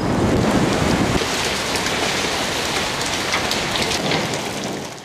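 Heavy storm rain pours down in the Çanakkale city centre, a steady loud hiss of drops hitting surfaces with wind mixed in, continuous for the whole stretch and easing slightly at the end.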